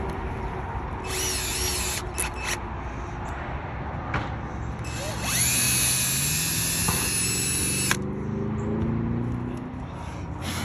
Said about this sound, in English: we got the first one drilled out